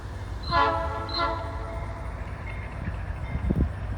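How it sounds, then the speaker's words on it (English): A long grain freight train nears in downtown Lawshe, Ohio, its horn sounding two blasts before the low rumble of the locomotives and cars builds steadily, with gusty wind noise across the microphone. "Here comes the train."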